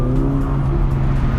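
A 2018 McLaren 570GT turbocharged sports car pulls hard after a downshift, its engine note a loud, steady, close-up drone that holds without a break, with no voices over it.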